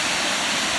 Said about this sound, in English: flow of the waterfall